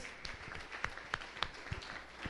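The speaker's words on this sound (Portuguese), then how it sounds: "Uma salva de palmas ao Senhor mais uma vez." A church congregation applauds during a sermon, a brief, fairly faint patter of clapping with a few distinct sharper claps standing out.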